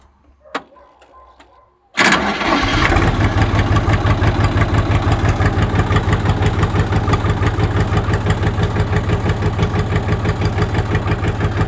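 After a quiet moment with a couple of faint clicks, the engine of a farm vehicle, fitted with a cleaned and freshly greased starter motor, catches almost instantly and settles into a loud, steady, close idle with an even rhythmic chug.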